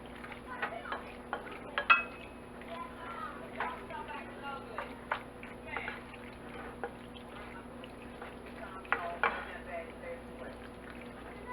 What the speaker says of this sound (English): Gonna have to mix this well.